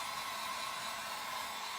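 A steady, close blowing whoosh of a heat gun drying paint on a craft project runs without pause, with no voices.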